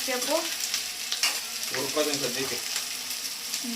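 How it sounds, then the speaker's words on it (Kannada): Onions fry in a pan for a chicken dish, a close, steady sizzle with scattered pops and stirring scrapes, with brief muffled voices in the background. "ಚೆನ್ನಾಗಿ ಫ್ರೈ ಮಾಡ್ಕೊತಾ ಇದ್ದಾರೆ ಹುರ್ಕೋತಾವ್ರೆ ಫ್ರೈ ಮಾಡ್ಕೊತಾವ್ರೆ"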